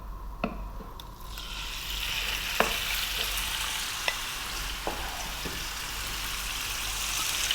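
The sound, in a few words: beef frying with cumin seeds in pan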